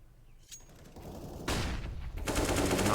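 Counter-Strike gunfire on the Inferno map during a competitive esports match, with a single shot followed by dense bursts of automatic fire that grow louder and more continuous toward the end.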